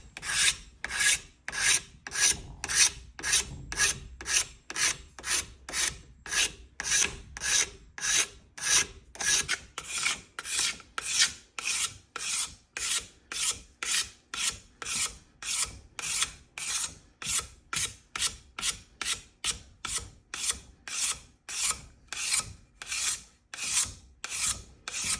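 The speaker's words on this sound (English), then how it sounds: "I like to take a scraper and just start giving it a little bit of a scrape" A hand scraper drags repeatedly over the wooden handle of a tool, stripping away the old finish in a steady, even rhythm of close, loud rasping strokes with no voices.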